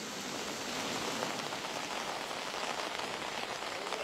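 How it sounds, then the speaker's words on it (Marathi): Heavy unseasonal rain pours down in Pune amid strong gusting wind, a dense, steady, broadband hiss of rain striking surfaces, continuous and close, with no voices. "सोसाट्याचा वारा आणि मुसळधार पाऊस सुरू आहे।"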